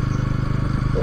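A motorcycle engine putters close by in a fast, even pulsing rhythm on a road near Shillong in Meghalaya.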